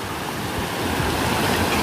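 Rushing water at Tat Ton waterfall in Chaiyaphum, where people play in the pool, forms a steady, dense roar that holds evenly throughout without any clear voices.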